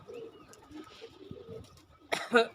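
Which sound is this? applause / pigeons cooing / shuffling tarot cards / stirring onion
pigeons cooing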